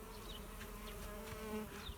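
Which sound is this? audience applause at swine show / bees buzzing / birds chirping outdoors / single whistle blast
bees buzzing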